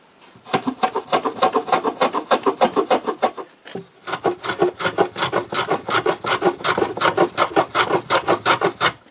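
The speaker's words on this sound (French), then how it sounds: "j'adoucis tout ce que je n'avais pas encore fait et je chanfreigne aussi le bas des pattes." Wooden lounge chair legs being sanded smooth and chamfered at the bottom with a hand tool, a steady run of close, loud rasping strokes in quick rhythm with a brief pause midway.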